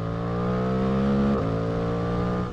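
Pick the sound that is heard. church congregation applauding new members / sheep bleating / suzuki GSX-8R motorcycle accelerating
suzuki GSX-8R motorcycle accelerating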